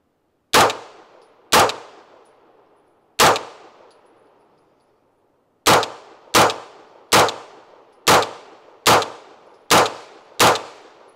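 A Brigade BM 9 pistol fires ten sharp, loud shots, first spaced slowly with a pause, then in a steady faster rhythm, each crack followed by a short echoing decay.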